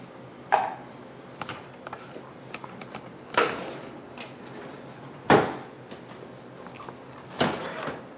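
An oven door is handled while a vegetable lasagne goes in to bake, giving several sharp clunks and bangs spaced a couple of seconds apart with quieter kitchen clatter in between.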